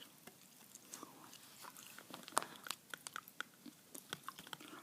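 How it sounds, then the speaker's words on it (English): Clay Natural chewing gum chewed close to the mic, with soft, wet, irregular smacks and sharper crunchy clicks at an uneven rhythm over a faint hiss, no talking. "Here's the gum I'm chewing, by the way."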